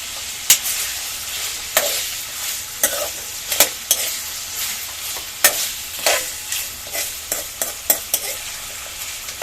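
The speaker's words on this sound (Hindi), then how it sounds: "ये भून रहा है गोश्त।" Beef for karahi crackles and sizzles steadily in oil in a pan while a utensil stirs and scrapes at irregular intervals, close up with no talking.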